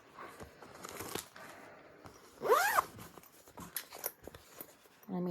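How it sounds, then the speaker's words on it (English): A zipper on a handmade cross-stitch project bag is zipped in one quick, loud rising stroke, with softer handling rustles and fabric shuffling before and after. "Sorry for the zipping."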